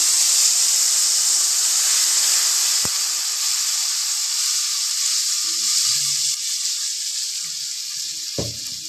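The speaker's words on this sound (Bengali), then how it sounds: "এবারে এই তেলের ভেতরে আমি সেই পেস্টটা আমি দিয়ে দিচ্ছি।" A paste of tomatoes and onions hits hot oil in a pan and sizzles, a bright, steady hiss that stays continuous and close, with a couple of small knocks near the start and end.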